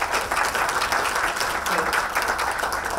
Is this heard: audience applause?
yes